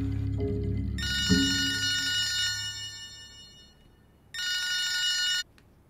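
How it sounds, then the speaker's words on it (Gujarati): A telephone rings twice, unanswered, in bright electronic bursts: a long trill followed by a pause and a shorter second ring, clear and close over a faint low background. "મોટા માણસો તો ક્યારે ફોન નથી ઉપાડતા."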